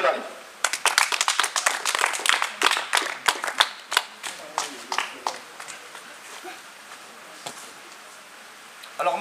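An audience at a French poetry cabaret greets a slam poet arriving on stage with close, crisp clapping that starts dense and lively, then thins to scattered claps and fades out.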